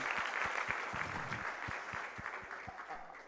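An audience applauds the Karnataka team at a national quiz finale in Mumbai, a steady wash of hall clapping with a few distinct low thumps that tapers slightly toward the end.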